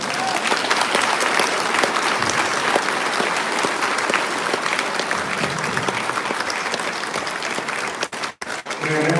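Audience applause for Padre Luis Toro at a question-and-answer gathering: a long, loud, continuous round of clapping from a large crowd that holds for about eight seconds before breaking off near the end.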